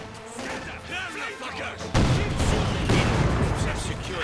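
Gunfire and mortar fire in the video game Company of Heroes 2, a burst of shots and blasts that gets louder and denser partway through, with a voice talking over it.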